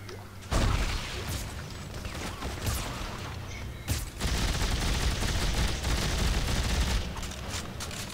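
Rapid dense gunfire from the sci-fi shooter video game Dead Space 3 rattles almost continuously, with sharp bursts, a brief lull partway through and a few heavier booms.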